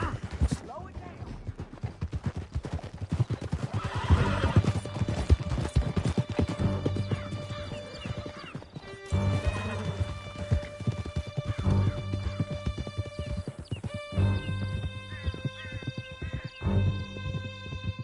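Horses galloping hard through a canyon in Red Dead Redemption 2, a dense drumming of hooves throughout with a whinny, under shouted dialogue and a game music score.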